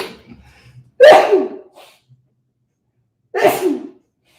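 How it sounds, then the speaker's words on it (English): Two loud sneezes close by, separated by a quiet pause, each a sharp burst tailing off quickly. "Of course, I sneeze on live, right?"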